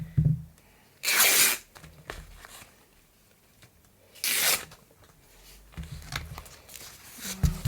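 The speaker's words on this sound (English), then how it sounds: "just a piece of dyed cotton by the look of it. I'm just going to rip it down the centre" A piece of dyed cotton fabric is ripped down the centre by hand in two sharp, loud tearing bursts separated by a few seconds of quiet handling.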